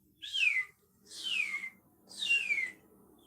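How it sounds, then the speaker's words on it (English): A cardinal sings three clear, descending whistled phrases, evenly spaced and fairly faint, heard alone outdoors with no talking. "Sounds like a cardinal."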